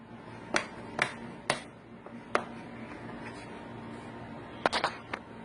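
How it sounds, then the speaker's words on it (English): The plastic case of an Asus TP500L laptop snaps into place as it is pressed down, a series of sharp, close clicks spaced irregularly, a few in quick succession near the end, over a quiet room hum. "Press it down until you hear the snaps."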